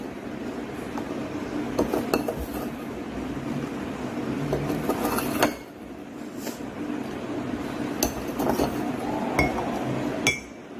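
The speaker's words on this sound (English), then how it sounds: "take 5 spoons of salt and put it in glass A." A spoon stirs salt into a glass of water, clinking repeatedly against the glass in an uneven rhythm, close and clear, with no talking.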